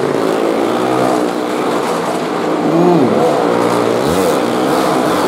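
Cars and motorbikes circle a wooden well of death at a fair stunt show in Chhatarpur, engines droning loudly and continuously with rising and falling revs as vehicles sweep past close by.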